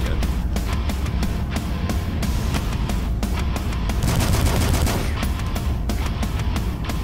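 Rapid gunfire in the retro shooter game DUSK, bursts of sharp repeated shots in fast rhythmic volleys, loud and continuous, with a denser flurry midway.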